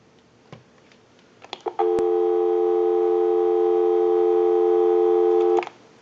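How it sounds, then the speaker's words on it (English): A Western Electric Noteworthy telephone gives a steady, clear dial tone lasting about four seconds after a few clicks of the handset, then cuts off cleanly. "We'll go ahead and give you some dial tone."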